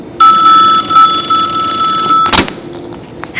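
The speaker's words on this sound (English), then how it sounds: "I like to wait for 2 rings." A telephone rings during an electronics show: a loud, steady electronic ring sustained for about two seconds, then cut off by a sharp click of the handset, leaving room noise and faint movement.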